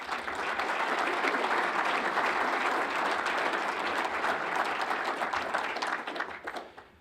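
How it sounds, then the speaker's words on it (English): Sustained audience applause at a city State of the City address, a dense wash of clapping from a large crowd that holds steady for several seconds before tapering off at the end. "That deserves an applause."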